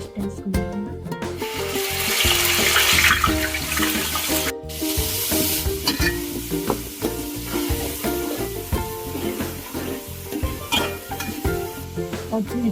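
Onion paste frying in oil with bay leaf, cloves, cinnamon and cardamom for goat head curry, a steady close sizzle with stirring and scraping throughout, no talk.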